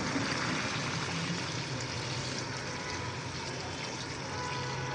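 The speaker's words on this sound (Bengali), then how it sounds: "এখন দিয়ে দিচ্ছি পানি" Water is poured into a pot of lightly fried fish, radish and tomato curry, a soft, steady, hissing splash that continues evenly for several seconds, faint and without talk.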